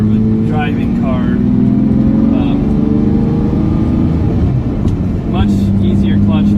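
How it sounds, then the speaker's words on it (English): A 1999 Lamborghini Diablo engine idling with a low, steady rumble and some rising and falling revs, loud and close, with people talking over it throughout. "I actually think my Diablo sounds a lot better than the Countach."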